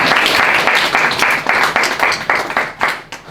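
An audience at a Bhagavatam class breaks into loud, lively clapping, a dense burst of hand claps in a regular pulse that thins out and fades over a few seconds, with no talking.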